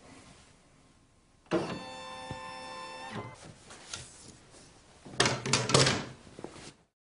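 A Brother Innov-is combination sewing and embroidery machine runs for about a second and a half with a steady mechanical whir, then clicks and knocks follow, and a louder burst of rattling comes near the end.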